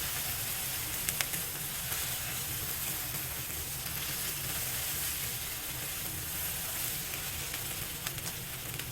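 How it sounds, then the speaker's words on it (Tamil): Potatoes and curry leaves sauté in a pan over a flame set a little above medium, giving a steady, close sizzle and hiss that holds at an even level throughout, with a few small clicks and no talk. "தீயும் மீடியம் ஃப்ளேமை விட கூட கொஞ்சம் வச்சுட்டு வதக்கலாம்."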